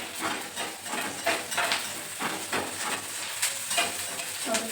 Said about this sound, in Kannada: ಹಾಗಾಗಿ ಮೊದಲು ನಾನು ಉಳ್ಳಾಗಡ್ಡಿನ ಫ್ರೈ ಮಾಡ್ಕೊಳಕತ್ತೀನಿ